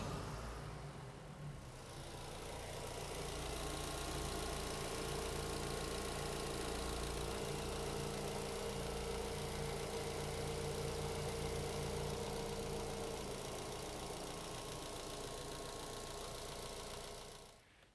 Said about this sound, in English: I'm just going to start the engine up, turn some accessories on